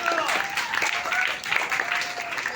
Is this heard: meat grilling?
no